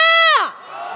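A crowd at a candlelight street protest march in Hongdae, Seoul raises a shout. One loud, falling voice leads into a broad roar of many people cheering close by.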